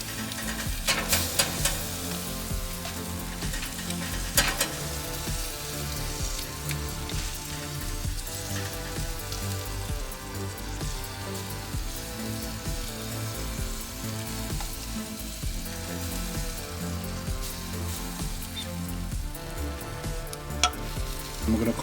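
Seasoned jerk salmon sizzles and fries on a grill, a dense, steady crackle that holds close and loud all the way through, with faint scraping or stirring now and then and no talking.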